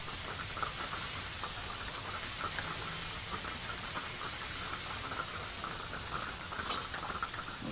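Quesadillas sizzling on a camping griddle after being flipped and pressed down, a steady hissing fry with soft crackles throughout, close and fairly quiet, no talking.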